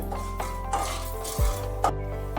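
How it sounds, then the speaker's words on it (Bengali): Cumin seeds, a dried red chilli and a bay leaf sizzle in hot oil as a tempering, with clinks of a spatula against the pan and a low steady kitchen hum, no voices. "দিয়ে দিচ্ছি একটু জিরে দিচ্ছি একটা পাকা লঙ্কা ফোড়ন সাথে তেজপাতা ভালোভাবে ফোড়নটা একটু নেড়ে নিতে হবে"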